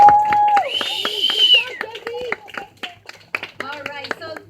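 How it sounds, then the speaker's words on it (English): An audience claps for an alligator-capture demonstration, with scattered sharp claps under loud whooping and gliding voices at first, then denser clapping toward the end. "give Jesse and Big Mac a big round of applause"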